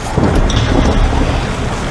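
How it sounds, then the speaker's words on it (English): A loud, steady roar of thunder rumbles through heavy rain and gusting wind of a squall at sea, filling the whole moment without a break. "Look, small savage storms. Squalls."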